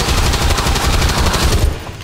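Rapid gunfire rattles continuously in XCOM 2, a loud close burst of overlapping shots pounding for about two seconds before cutting off into a brief tail.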